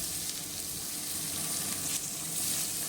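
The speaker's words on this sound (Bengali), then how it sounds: "পেঁয়াজগুলোকে ভালো করে লাল লাল করে ভেজে নিব।" Chopped onions frying in oil with bay leaf, cumin, cardamom, clove and cinnamon for a Bengali-style mutton curry, a steady close hiss of sizzling with soft crackle and no talk.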